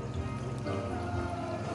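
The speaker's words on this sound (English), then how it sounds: "So you've got a waterfall effect" Water spills over a three-inch bulkhead into an aquarium sump, making a steady, close waterfall splash and gurgle that runs without a break and with no voices.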